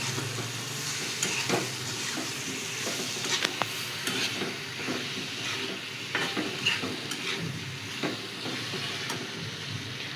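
Masala eggplant curry being stirred in a pan, with a steady soft sizzle and repeated scraping strokes of a spoon across the pan bottom, close and alone with no talk.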